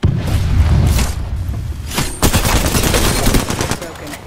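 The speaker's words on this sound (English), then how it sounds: "throw my grenade out." Grenade blast and gunfire in the Apex Legends battle royale game, a loud sustained burst of booms and rapid shots with a sharp fresh blast around two seconds in, continuing dense and near throughout.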